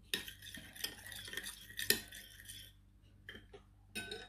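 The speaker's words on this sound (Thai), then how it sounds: "คนในข้าวกันจ้ะ" A metal spoon stirs rice into a green bean salad in a bowl, giving close scraping swirls and sharp clinks against the dish in irregular bursts, followed by a short quiet pause and then more clatter.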